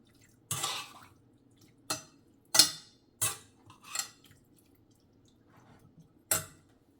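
A spoon stirs green beans in a pot on the stove, giving several distinct metallic clanks and scrapes spaced irregularly over a quiet background, close and fairly clear.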